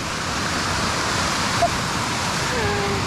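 A small waterfall spills along a mountain stream on the Timberline Trail, a steady, close rush of water that holds even and unbroken throughout.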